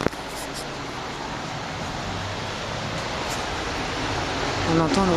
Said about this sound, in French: On entend le ressac en fait.